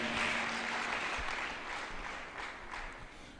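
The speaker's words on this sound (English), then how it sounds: "Let's clap hands for Jesus." Congregation clapping during a Sunday church service, a steady dense wash of hands lasting a few seconds at moderate level, slightly fading toward the end.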